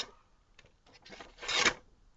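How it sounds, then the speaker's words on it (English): A bushcraft knife blade is drawn across a whetstone in a few quick strokes, soft close scraping swipes building to one louder, longer rasp. "10 swipes on the whetstone either direction."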